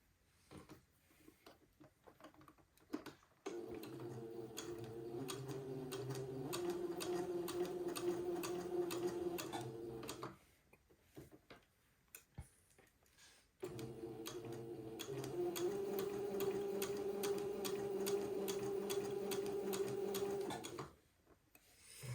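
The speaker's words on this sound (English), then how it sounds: "I'm going to pivot and sew along the top of the shorts" Sewing machine stitching along the top of a pair of boys' white button-on shorts, two long runs of fast, steady, even whirring with a short quiet pause between them, close and alone.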